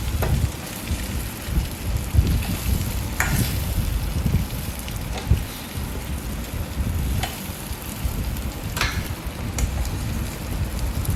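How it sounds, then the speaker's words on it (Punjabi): Taro curry sizzling in spices in a pan while a ladle stirs it, a loud, dense hiss and crackle with occasional sharp scraping knocks, close and continuous without talk. "ਕੜਛੀ ਨਾਲ ਨਾ ਚੰਗੀ ਤਰ੍ਹਾਂ ਨਾਲ ਮਸਾਲੇ ਚ ਮਿਲਾ ਦੇਣਾ ਹੈ"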